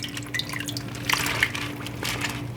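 Napa cabbage being rinsed in water in a kitchen, with a steady trickle and light splashing and dripping, close and moderately quiet, no voices.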